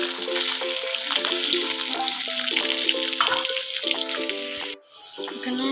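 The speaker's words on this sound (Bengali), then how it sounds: "কেটে রাখা আলু আর পেঁয়াজ একসঙ্গে দিয়ে দেবো। একটু নেড়ে নেব।" Cut potatoes and onions sizzle steadily in hot oil and are stirred, with a constant frying hiss over background music that cuts out briefly near the end.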